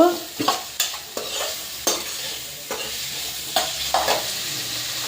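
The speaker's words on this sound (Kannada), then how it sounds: "ಇದನ್ನು ಹಂಗೆ 2 to 3 ಮಿನಿಟ್ಸ್ ಫ್ರೈ ಮಾಡ್ಕೊತಿರ್ಬೇಕು" Ingredients frying in a pan for a paneer gravy, with a steady sizzle broken by a string of sharp spatula scrapes and taps as the pan is stirred.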